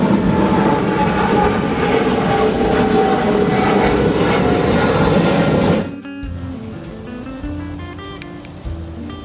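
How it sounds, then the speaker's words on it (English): A loud, roaring airplane engine drones overhead, then cuts off abruptly, leaving quieter background noise, outdoors beside a grill. "Excuse the airplane."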